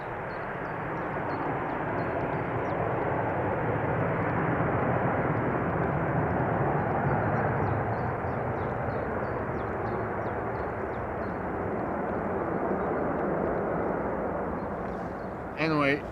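Airliner climbing out after departure from runway 36L at Amsterdam Schiphol, a steady broad jet engine roar heard from a distance that holds for the whole stretch, with speech in the background.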